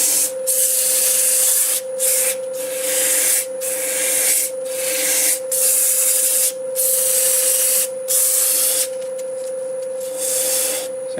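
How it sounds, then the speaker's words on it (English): A spinning wood piece on a lathe is sanded in repeated strokes, a loud rasping hiss in bursts of about a second separated by short pauses, over the steady hum of the lathe. "I'll sand a little bit here and show you what we're going to do."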